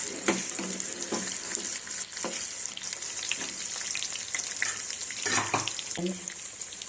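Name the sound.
stuffed bitter gourd curry frying in a pan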